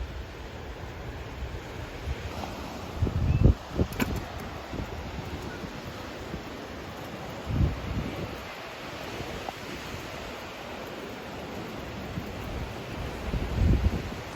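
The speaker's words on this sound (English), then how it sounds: "Watch the waves come." Ocean waves on the beach at Rosemary Beach, a continuous wash of surf with a few heavier breaks, under wind buffeting the microphone.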